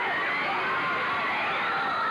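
Wrestling fans at a Memphis wrestling event cheer and yell in a steady, excited roar that fills the whole moment with no single voice standing out.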